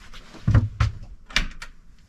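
The wooden bow doors of a narrowboat swing open with a few close, hollow clunks and knocks, followed by softer rattling.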